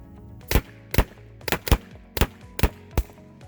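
Mission TPR pepperball pistol firing rubber balls into insulation: seven sharp, loud shots in an uneven rhythm over a few seconds, each with a brief ringing tail, close by and with no talking.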